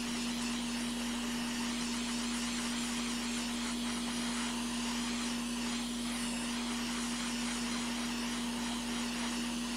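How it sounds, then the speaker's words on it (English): A hot air rework station blows steadily on a Lenovo ThinkPad T400 laptop motherboard, giving a constant airy hiss with a steady hum beneath it that holds unchanged throughout. "Let's give it a little bit more of a warmth from the hot air."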